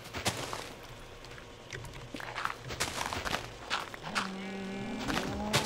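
A cow moos near the end, a long low call, after a stretch of scattered footsteps and soft thuds, in the video game Minecraft.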